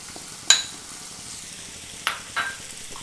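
Spice masala of chilli, coriander, turmeric, garam masala, fenugreek and pepper powders frying for karimeen pollichathu, with a quiet low sizzle under a few sharp scrapes and clinks of a spoon stirring in the pan.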